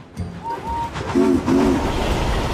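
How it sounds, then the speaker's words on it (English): A steam engine hauls a goods train in an animated remake, giving a few short whistle blasts over a steady, loud rolling rumble of wheels. "Henry was pulling a very important goods train on his way to the mainland"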